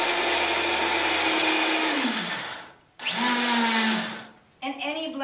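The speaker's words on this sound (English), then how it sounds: "And any blender will do this." A blender whirs loudly at a steady high pitch, winds down, starts up again, then cuts out as a voice begins.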